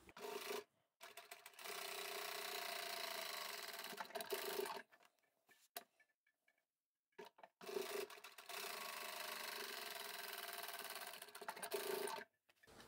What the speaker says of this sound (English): then we can sew right across the fabric.